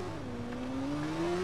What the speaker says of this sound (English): the sound the motorcycle makes when it changes gears is really weird.